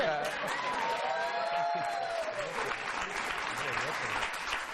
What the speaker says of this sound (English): You can applaud anytime you like